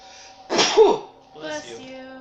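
One sharp, close sneeze bursts out, followed by a short murmur of voice.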